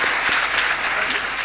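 Audience at a science event giving a minister a steady round of applause, many hands clapping together in a dense, even wash, with a faint voice briefly underneath.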